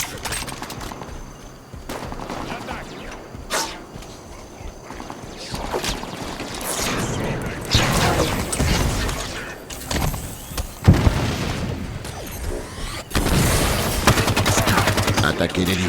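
Repeated gunfire from a combat firefight in Halo 5: Guardians on Legendary campaign difficulty, dense shots and bursts building to louder volleys under shouted voices and battle noise.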